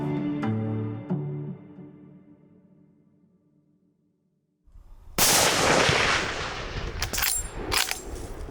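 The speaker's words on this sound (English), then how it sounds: "I'm not very happy with that shot" A hunting rifle fires at a fallow deer in Italy, one sudden loud blast that cuts through quiet after a few fading tones, followed by a rumbling echo and scattered rustling.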